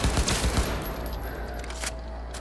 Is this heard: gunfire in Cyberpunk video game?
yes